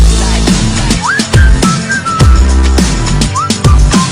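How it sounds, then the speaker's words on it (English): A person whistles sliding two-note wolf whistles, twice, loud and close, over thumping music in a SkyWars gameplay session. "I just whistled at her like"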